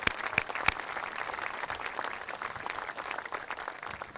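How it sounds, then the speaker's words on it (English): Audience applause at the grand opening of a student-athlete performance center at Eastern Michigan University, a few sharp claps rising into steady, moderately loud clapping that carries on throughout. "I think that alone deserves a round of applause for being able to pull this off"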